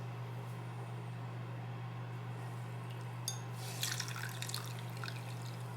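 Water running and dripping as makeup is rinsed out of a beauty blender sponge over a sink, a steady faint trickle with brighter splashy drips toward the end, no talking.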